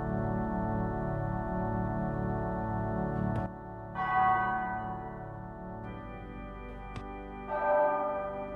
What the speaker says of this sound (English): St. Graham's Big Bell, please only ring at end of sequence